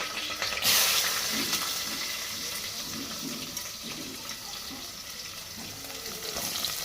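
Chopped onions frying in hot oil in a home kitchen pan, a steady, fairly loud broadband sizzle and hiss that continues without a break, with no voices.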